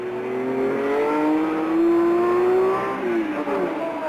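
At the 1968 Le Mans 24 Hours, race cars wail past with sustained high engine notes that swell and then slide down in pitch as they pass, with more cars following.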